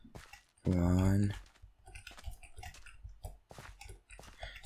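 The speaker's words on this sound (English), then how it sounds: "Sorry if my keyboard is really loud." A burst of loud, rapid computer keyboard typing during a Minecraft Hypixel TNT Run game, clattering for under a second near the start, then quieter clicks and some voice-like sounds continue.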